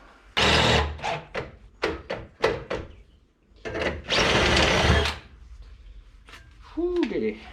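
A drill bit bores into metal lubricated with lithium grease in a home garage, sounding as several short whirring bursts followed by two longer sustained grinding runs, loud and close, with a brief voice near the end.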